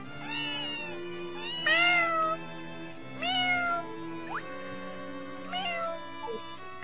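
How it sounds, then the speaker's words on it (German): A cat in the farming video game Harvest Moon: A Wonderful Life meows several times in clear separate calls, some rising, others short, heard over steady game background music with no talking. "Katze, Katze,"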